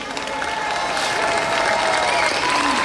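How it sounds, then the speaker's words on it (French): An audience at a 2018 Tourcoing stage show gives steady, dense applause that keeps up at full strength for a few seconds, with no speech over it. "on peut vraiment les applaudir."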